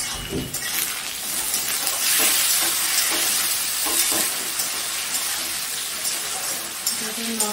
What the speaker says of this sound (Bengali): একটু ভাজা ভাজা করবো এখন।